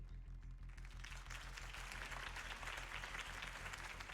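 Crowd applause follows Harvey Dent's campaign speech in the Batman Telltale video game, a dense, continuous wash of clapping over a low rhythmic music bed.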